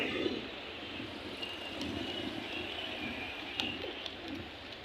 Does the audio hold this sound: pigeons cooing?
yes